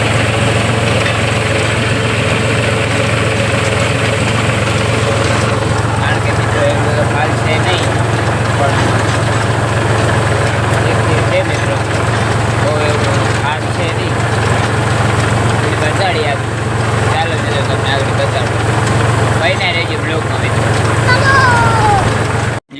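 A parked tractor idles in a field, its engine giving a loud, steady low throbbing hum that runs unbroken throughout with slight mechanical rattle on top.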